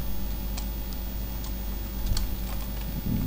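Code is typed on a computer keyboard in faint, scattered key clicks over a steady background hum, with no voices.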